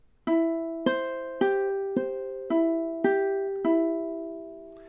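Plucked ukulele notes in a steady pattern, seven ringing attacks about half a second apart, each note sustaining and decaying before the next.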